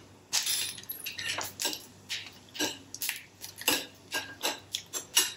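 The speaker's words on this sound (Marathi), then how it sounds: "मोहरी आता तडतडायला लागली आहे" Mustard seeds splutter in hot oil for a Maharashtrian katachi aamti tempering, giving sharp irregular pops and crackles in quick succession close by, over a faint low hum.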